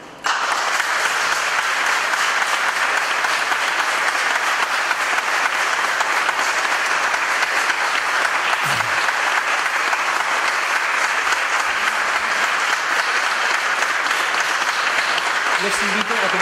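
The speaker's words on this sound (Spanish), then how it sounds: "El público les puede brindar un merecido aplauso." Audience applause for newly sworn lawyers at a Supreme Court swearing-in ceremony: steady, dense clapping from a large crowd that holds at full strength for about sixteen seconds without a break.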